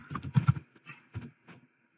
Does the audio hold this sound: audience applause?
no